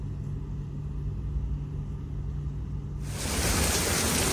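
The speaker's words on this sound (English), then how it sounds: "the rain has come down now." Rain comes down outside during a storm with lightning in Singapore, a low rumbling hiss that suddenly swells into a much louder, dense roar partway through.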